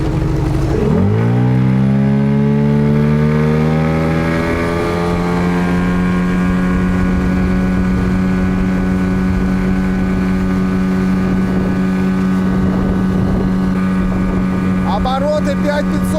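A Tohatsu outboard motor, either the 9.8 or the 5 model, runs on a boat, its pitch sweeping up as the throttle opens, then holding a loud, steady high-rev drone with wind buffeting the microphone.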